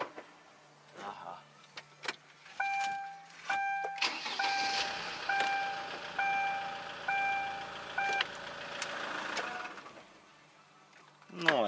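Engine of a Chinese vehicle with a suspected transmission or clutch fault rattling and clattering with uneven mechanical knocks and a steady tonal whine, loud and close, with brief pauses in between.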